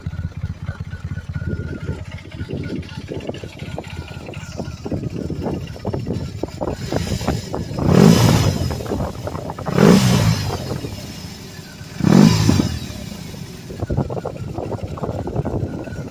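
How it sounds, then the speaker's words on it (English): A BMW R18 B bagger motorcycle's boxer engine idles with a low, pulsing exhaust rumble, swelling in a few short throttle blips, with some wind noise. "You can hear the rumble of the exhaust."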